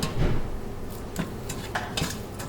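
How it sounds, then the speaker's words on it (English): Cooked pasta being stirred into a sautéed ground beef and vegetable mixture for Haitian baked macaroni, with utensil scrapes and clinks against the pot landing in a few scattered bursts, close and moderately loud with no talking. "take your cooked pasta and add to the meat mixture"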